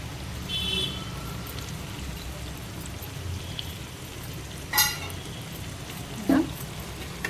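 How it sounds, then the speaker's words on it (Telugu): Raw mango pieces sizzle in hot oil in a pan of mutton curry with tamarind leaves, a steady soft hiss broken by two brief clinks of the stirring spoon. "వేసుకొని ఒకసారి బాగా కలుపుకోవాలి"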